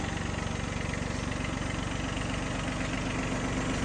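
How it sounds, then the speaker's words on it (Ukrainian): A small tractor engine with a side-mounted cylinder idles steadily up close, a fast even low chug with a rattling knock running throughout, no voices. "Отак повинен працювати"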